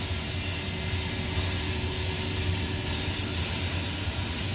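Broadband hissing rush of steam escaping from a leaking steam coil in a no-heat repair setting, steady and fairly loud throughout with a low mechanical hum underneath and no talking.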